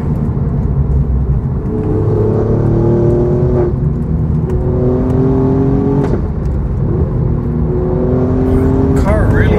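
Alfa Romeo Giulia Quadrifoglio engine revving through the gears, with rising pitch sweeps broken by sharp blips at each shift, loud and close inside the car throughout.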